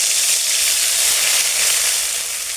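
Ginger and green chili paste fries in hot oil with a dense, steady, bright sizzle that stays loud and close throughout, slightly easing toward the end, with no voices.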